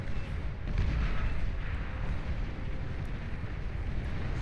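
An artillery barrage firing in the strategy game Beyond All Reason, a steady rumble of distant booms and shots blending into a continuous low roar, fairly quiet.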